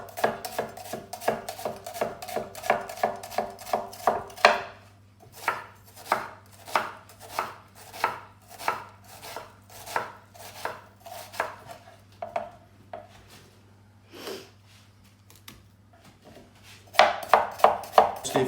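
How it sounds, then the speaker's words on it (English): Knife chopping an onion into a fine dice on a cutting board for gypsy eggs: a fast, steady run of crisp close taps, a short pause, slower spaced strokes, then another quick burst at the end, with no talk. "just while I'm cutting an onion. Okay, so onion just nice and finely diced"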